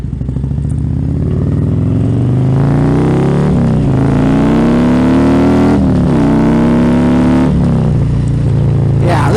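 Harley-Davidson Street Glide Custom motorcycle riding under load, its engine and pipes giving a loud, steady rumbling drone with rising pitch sweeps as it accelerates through the gears.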